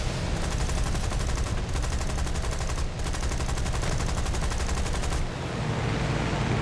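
Aircraft machine guns in a video game hammer away at ground targets in a dense, continuous rattle of rapid fire, loud and near, with two brief gaps before the burst ends and a low engine drone carries on.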